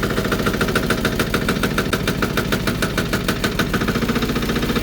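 A Ford CM224 compact tractor engine runs steadily under load while pulling a rope, giving a continuous close, loud mechanical drone with a rapid knocking pulse and no talk.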